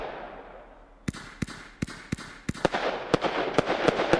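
In the Fireworks Mania game, a fan-shaped 50-shot firework cake fires a rapid series of sharp launch pops, about a dozen, starting sparse and quickening into a steady rhythm, fairly near.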